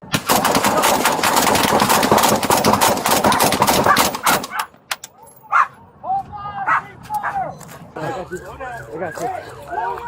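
Multiple officers open fire in a rapid, dense volley of gunshots lasting several seconds, loud and close on body-camera footage, followed by a dog barking repeatedly and raised voices.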